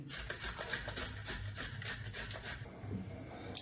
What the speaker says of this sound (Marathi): आता मी सगळी हळद अशी किसून घेते